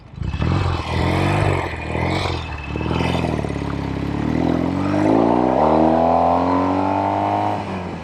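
A Norton Commando 850 Roadster motorcycle engine revs hard while riding, loud and close, with rising and falling pitch as it accelerates through the gears for several seconds.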